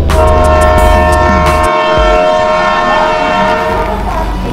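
A train heads toward Lonavala, a loud steady rumble with sustained tonal horn-like drones overhead, close and continuous, with brief low-end drops partway through.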